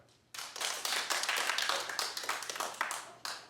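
A studio audience claps in a burst of scattered hand claps that starts abruptly, holds steady for about three seconds, then thins out, fairly close and loud with no talking over it.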